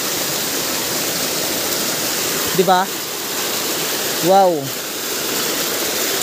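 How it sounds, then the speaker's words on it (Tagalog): Strong water of a forest stream and waterfall roars as a loud, constant rush close by, while a person briefly exclaims over it. "sobrang lakas ng tubig"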